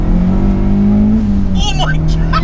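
A 240 BHP turbocharged Renault Clio 172 engine revs steadily, then its pitch drops and climbs again as it pulls hard, loud and close throughout, with a person's voice breaking in over the engine.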